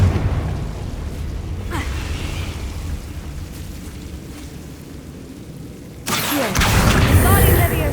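A Confringo fire spell detonates in Hogwarts Legacy, a sudden loud burst that kicks in near the end over a steady rumbling game soundscape, with a smaller crackling flare a few seconds earlier.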